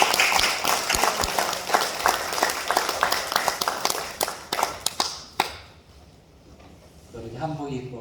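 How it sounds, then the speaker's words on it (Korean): Applause at a church devotional service for a women's mission society, a dense wash of many hands clapping for about five seconds before tapering off, followed by quieter room tone and a voice starting to speak. "반갑게 맞이하면서 박수로 환영하겠습니다"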